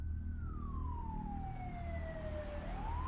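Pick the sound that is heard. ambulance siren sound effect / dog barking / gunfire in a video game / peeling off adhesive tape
ambulance siren sound effect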